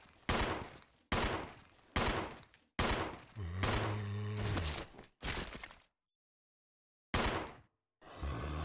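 Gunfire in Resident Evil Zero HD Remaster: loud sharp shots arrive in separate clusters roughly every second, then a short silence follows, and another pair of shots closes the sequence. No talk is heard.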